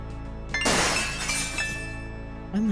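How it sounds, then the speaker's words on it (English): Glass shatters in the 1993 adventure game Gabriel Knight: a sudden loud crash with a spray of tinkling shards that rings out for over a second over a low ambient hum, then fades. "the faint sound of breaking glass"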